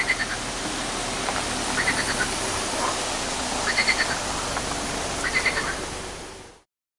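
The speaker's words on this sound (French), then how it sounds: "écouter l'eau et les grenouilles du bassin" Frogs croak from a forest pond over a steady wash of moving water, with clusters of calls returning about every one and a half seconds and a constant broadband background.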